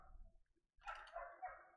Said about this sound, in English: Your dog's barking at the dog barking.